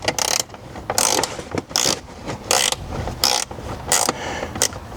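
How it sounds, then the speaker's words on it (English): A ratchet clicks in quick bursts with short pauses, loud and close, as side screws are backed out of the radio mount in an FJ Cruiser dashboard. "let's go ahead and remove these side screws up here to get"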